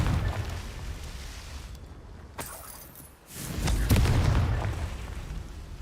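In Hogwarts Legacy, a fiery explosive blast erupts from a cast spell: a couple of sharp cracks followed by a swelling, booming rumble that fades out, set against a low ambient game background.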